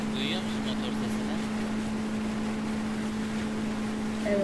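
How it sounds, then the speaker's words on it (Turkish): A motorboat engine in the military video game ARMA 3, heard off the coast of Altis as a steady, unbroken drone that holds at an even level for the whole stretch. "Duyuyor musun motor sesini?"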